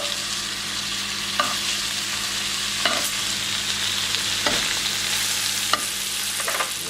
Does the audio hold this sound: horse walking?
no